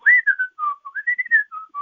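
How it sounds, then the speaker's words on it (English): A person whistling a melody alone, clear bright phrases of gliding and held notes in a bouncing rhythm, close and loud with short breaths between. "I can whistle this piece, and let's make a song out of it"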